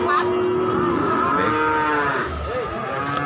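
Young Limousin and Simmental cattle at a livestock market moo loudly and close by, a long drawn-out low call with a second bellow overlapping near the end.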